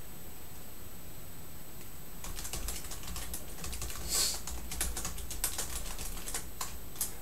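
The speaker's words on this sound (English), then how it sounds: "I'll type this." Computer keyboard typing during a chemistry lecture, a quiet room tone followed by rapid, close, irregular key clicks that continue steadily.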